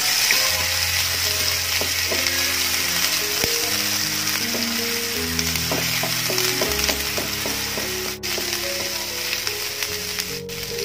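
Ginger, garlic and green chilli paste sautés in hot oil, making a steady crackling sizzle with occasional stirring clicks under a soft melodic music bed.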